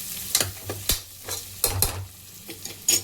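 Green chillies frying in a pan are stirred with a spoon, with soft scraping strokes and quick clinks over a faint sizzle, close and irregular.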